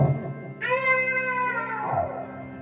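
A voice mimics a cat's meow, a drawn-out, slightly processed wail with an echoey quality, heard alone after a brief low murmur.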